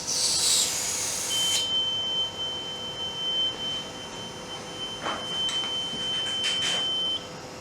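Reconditioned smoke detector head under test giving a steady, high-pitched continuous electronic tone lasting several seconds, with faint handling clicks and knocks around it and a brief hiss at the start.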